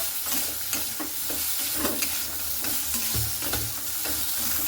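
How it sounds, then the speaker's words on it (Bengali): Okra frying in a pan for a vegetarian okra curry, stirred with steady scraping strokes under a constant close sizzle, no talking. "ভিন্ডিটা আমার খুব সুন্দর করে কিন্তু নাড়াচাড়া করে নিচ্ছি"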